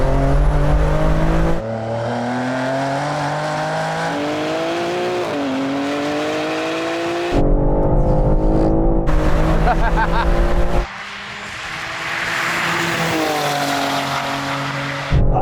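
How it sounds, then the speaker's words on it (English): BMW M cars, among them the M2, M3, M4, M5, M8, X3M, X5M and XM, launch from a third-gear rolling start in a drag race. Loud, close engines rev hard and climb through several gear changes, and the tires squeal briefly. "let's get started with a rolling race, all right? Third gear rolling."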